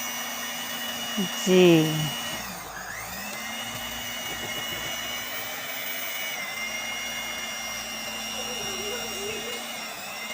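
An electric hand mixer beats chocolate cake batter, a steady whirring motor hum running the whole time with a brief pitch dip as the beaters shift through the bowl, while someone speaks a word early on.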